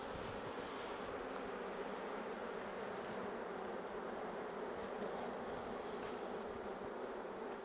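Bees swarm around the frames of a Cuban beehive, a dense, continuous buzzing drone that holds steady and close throughout with no other sounds.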